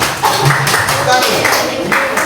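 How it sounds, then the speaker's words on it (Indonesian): Schoolchildren in a classroom clap together for a team, giving several loud, rhythmic bursts of clapping mixed with voices. "Tepuk tangan untuk kelompok 1"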